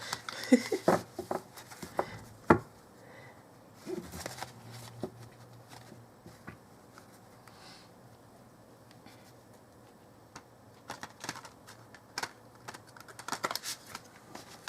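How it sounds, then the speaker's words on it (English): Tarot cards are shuffled in irregular bursts of light, rapid patters and flicks, with quieter pauses between the riffles. "if we can shuffle the cards"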